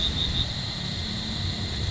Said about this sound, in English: all you hear is the crickets and the noise you would hear in a jungle